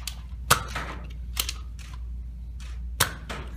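A Nerf Zombie Strike CrossCut foam-dart blaster fires, giving three sharp close snaps spaced apart, with fainter mechanical clicks and rattles between them in a quiet room.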